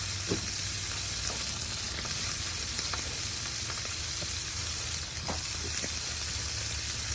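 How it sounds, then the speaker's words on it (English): Hamburger meat sizzles and fries steadily on a grill over a campfire, a continuous moderate hiss with a few faint clicks throughout and no talking. "Now on the other side, let's get the hamburger meat going. Drop it down on there."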